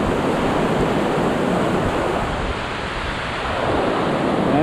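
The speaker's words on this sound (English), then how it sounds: "Some deep and fast moving water." Deep, fast-moving river water on a trail crossing rushes in a steady, loud broadband roar, continuous and close, with no voices over it.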